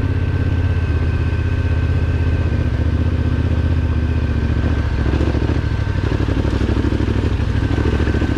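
A motorcycle engine runs steadily at low revs in a higher gear on a mountain track in the Pyrenees, a loud, continuous low rumble with clattering texture close by throughout.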